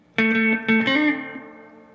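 Brief electric guitar phrase from a song riff at full speed: two plucked attacks followed by a hammer-on and pull-off, fairly clean tone, close and alone, ringing out and decaying over a second.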